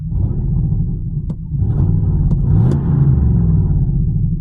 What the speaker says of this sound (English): It's just sitting there, idling.